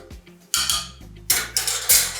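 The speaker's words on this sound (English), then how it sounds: "Definitely give it a stir so that everything kind of gets dissolved." Spoon stirring a limoncello infusion of lemon peel in a jar, several distinct bright clinks and scrapes against glass at an uneven rhythm, close and fairly loud with no talking.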